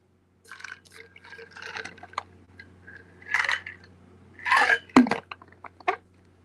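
Water poured into a glass: a few short splashing and filling bursts with small clinks and drips, close and fairly clear in an otherwise quiet room.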